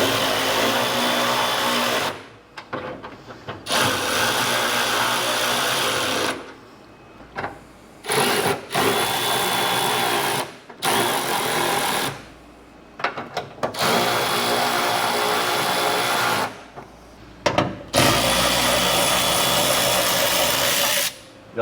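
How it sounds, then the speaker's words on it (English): A cordless impact wrench rattles loudly in repeated bursts of a few seconds each, separated by short pauses, up close in a garage working on a 1986 Chevy K30 Cummins swap. "Y'all like that cordless wrench?"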